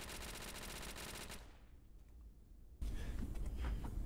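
A Tommy gun in a video game fires in loud continuous automatic bursts, stops for about a second, then resumes just as loud and sustained.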